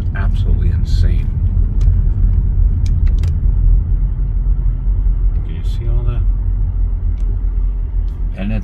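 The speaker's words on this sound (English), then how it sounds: "We got traffic everywhere." Road traffic in Lake George village rumbles steadily as cars pass close by, a continuous low engine and tire drone with someone briefly talking over it.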